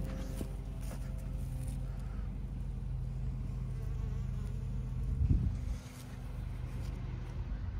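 Honeybees buzz steadily near a farmyard overlooking a barley field, a continuous low drone with a brief louder swell partway through and no speech.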